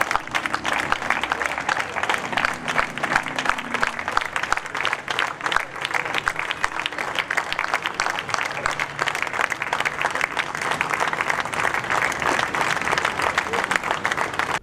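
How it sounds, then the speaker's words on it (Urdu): A standing audience at a tribute event for singer Nayyara Noor at the Arts Council of Pakistan claps steadily, dense sustained applause for many seconds, with faint voices underneath. "ایک بار سب مل کے کھڑے ہو کے نیرہ آپا کے لیے 10 سیکنڈ ہم تالیاں بجائیں"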